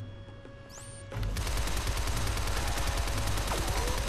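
Sustained gunfire in the video game Shadow Complex, a loud continuous rattling barrage that starts abruptly after a brief electronic whine and keeps going without pause.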